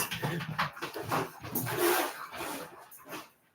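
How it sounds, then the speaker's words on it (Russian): Dog at home plays roughly with a cat, giving close, choppy whimpers, snuffles and short growling yelps in bursts, with scuffling between them and no talk. "Собака с кошкой играются."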